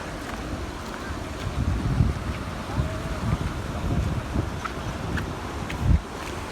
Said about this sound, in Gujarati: કેવડી મોટી આવક છે પાણીની ને કેટલું તેજ આવે છે